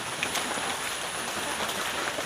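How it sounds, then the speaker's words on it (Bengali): Steady rain falls outdoors, an even, close wash of dense patter with no pauses across the short stretch. "বৃষ্টি হচ্ছে।"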